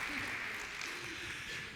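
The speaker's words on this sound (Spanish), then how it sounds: "también un aplauso para Inés" Brief applause from an audience at an agricultural fair conference session, a quiet, even patter of clapping throughout the short moment.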